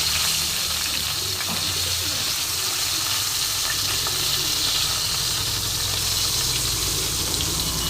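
Chopped eggplant and small potato pieces frying in hot oil after a tempering of spices, a steady loud sizzle and hiss running unbroken throughout with no pauses.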